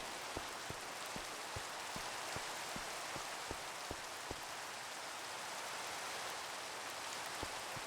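Steady rain falling in California with a constant wash of drizzle, punctuated by sharp, regular drips tapping nearby, with no voices.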